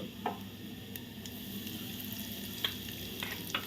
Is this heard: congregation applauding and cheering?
no